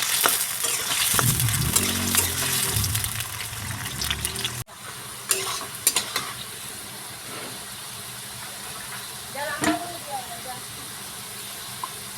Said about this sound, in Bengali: সেই আলুগুলো আমি এখন ভেজে নিব ভালো করে